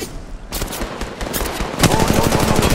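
Rapid automatic gunfire from an Apex Legends Mobile battle royale match on the Olympus map, dense bursts that grow louder and more sustained after a brief lull.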